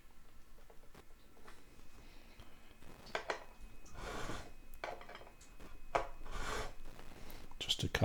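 A file makes several short rasping swipes across the fret edges of a brand new Telecaster-style guitar neck during a setup, the strokes clustered and close, with quiet scraping between them.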